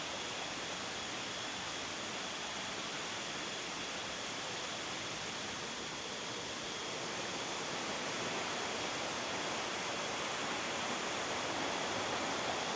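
Water rushes steadily through a large bamboo pipe at a historic Mataram kingdom site, a dense, continuous hiss of flow with no pauses and no voices.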